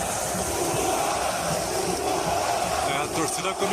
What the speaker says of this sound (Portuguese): A torcida começou a pedir o Luan